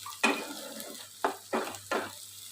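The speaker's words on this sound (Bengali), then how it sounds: "টমেটো কুচি দিয়ে একটু নাড়িয়ে নেব।" Chopped tomatoes are stirred into mutton fat and potatoes frying in a pan. Four distinct scraping stirs come over a low, steady sizzle, close and fairly loud.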